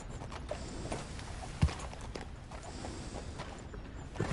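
Horse hooves clip-clopping as a rider sets off at a walk in the Red Dead Redemption 2 video game, soft irregular thuds with faint tack creaks over a quiet background.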